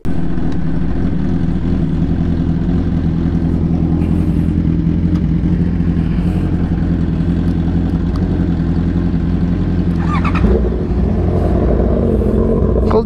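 A Honda CB650R motorcycle engine runs after a cold start, a steady, loud, close idle with a rough low rumble that holds throughout, with a brief blip of revving near the end.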